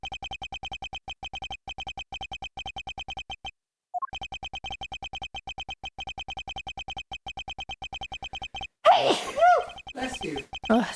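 A single sneeze bursts out near the end, after a long run of repeated electronic dialogue blips from the Ace Attorney Investigations game.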